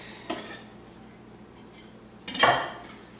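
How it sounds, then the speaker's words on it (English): A utensil stirs garlic chive vinaigrette in a dish, producing two bursts of clinking and scraping against the container, a short one early and a louder, longer one later. "Give that a nice stir."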